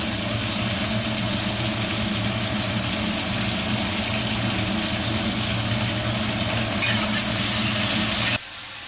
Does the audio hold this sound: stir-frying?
yes